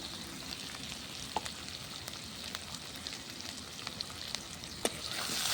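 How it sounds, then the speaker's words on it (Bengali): Ground spices with salt, cumin and chilli powder being stir-fried in oil in a pan over a clay stove: a continuous close sizzle, broken by scattered sharp clicks and scrapes of stirring. "এবার ভালো করে সমস্ত মশলাগুলো কষিয়ে নেব।"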